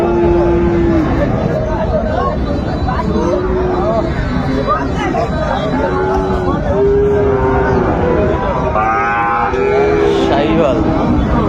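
A young Sahiwal bull calf moos repeatedly at a busy cattle market, several drawn-out calls rising over a steady babble of people talking and haggling nearby.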